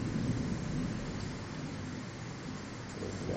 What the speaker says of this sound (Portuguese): Trovoada geral.